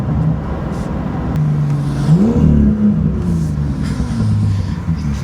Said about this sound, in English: That's a wicked exhaust.